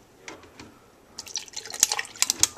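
Milk poured into a blender for a strawberry smoothie: a few soft drips at first, then a close, splashing gurgle of liquid that grows livelier toward the end.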